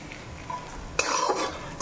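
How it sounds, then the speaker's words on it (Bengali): Hilsa fish pieces coated with turmeric are stirred in a pan: a soft, brief scrape of a spoon against the pan over a low sizzle, then a louder stroke. "হলুদ দিয়ে একটু বেশি করে ভালো করে নাড়াচাড়া করতে হবে।"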